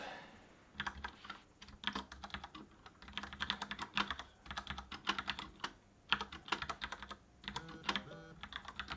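Steady close-up typing of code on a computer keyboard, bursts of rapid key clicks with brief pauses between phrases, quiet room tone beneath.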